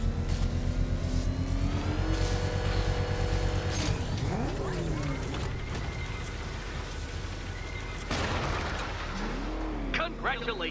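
A Batmobile engine revs in Batman Arkham Knight on PS4, a loud sustained roar with rising and falling pitch swells, heard under game dialogue and other game sounds throughout.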